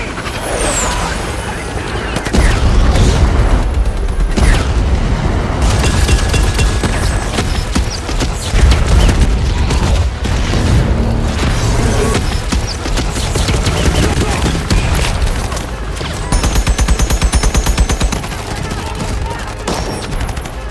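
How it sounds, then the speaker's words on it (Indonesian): A loud, dense firefight rages with sustained rapid gunfire bursts and heavy explosive booms, layered almost continuously over the whole stretch. "Baku tembak dan saling rudal pun tak terelakkan lagi."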